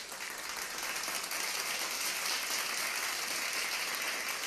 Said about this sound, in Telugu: ప్రసాద్ గారికి, బీనా గారికి గట్టిగా ఒకసారి చప్పట్లు కొట్టి థ్యాంక్ యూ చెప్పాలి